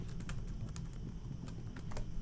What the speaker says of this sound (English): why am I not just typing that in?